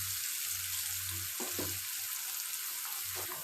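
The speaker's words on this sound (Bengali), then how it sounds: "দেওয়ার পর আমি ভালোভাবে পেঁয়াজ কুচিগুলো ভেজে নিব।" Chopped onions fry in hot oil in a pan for chicken biryani, a steady close sizzle with a low hum beneath and a couple of brief stirring scrapes; quiet overall, no talking.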